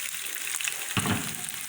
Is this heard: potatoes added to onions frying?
yes